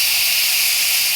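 Dried fish (shutki) with garlic sizzles in a hot frying pan, a loud, steady, bright hiss that continues unbroken throughout.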